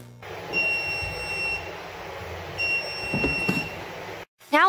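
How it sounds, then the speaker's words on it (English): Two steady high-pitched electronic beeps from an Anycubic Wash & Cure Machine 2.0 finishing washing, a couple of seconds apart over faint mechanical hum, then a brief silence and a clunk at the end. "Once it's done washing, the machine will beep."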